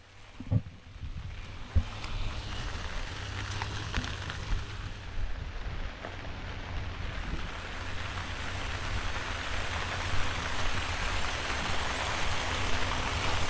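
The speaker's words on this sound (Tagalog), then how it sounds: "Umuulan." Steady rain falls over a broad, continuous hiss, with a few louder drops and knocks near the start and no voices.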